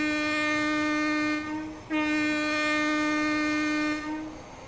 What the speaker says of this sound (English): The horn is cool.